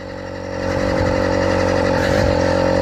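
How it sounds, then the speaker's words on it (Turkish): A cold moped with a small engine is running while being ridden. It holds a steady mid-pitched drone that builds over the first half-second and carries slight uneven wavering as the engine bogs down, with no talk over it. "Motor soğuduğu için biraz boğuluyor."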